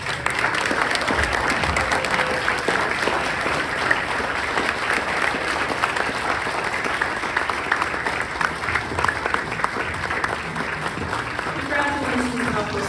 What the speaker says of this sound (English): please join me in a very heartfelt round of applause